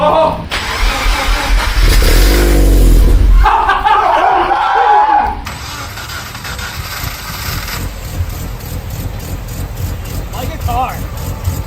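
A rotary-swapped Subaru BRZ cranks and fires into a loud, raw roar, then drops to a rough, uneven idle with fan whir; people talk excitedly nearby.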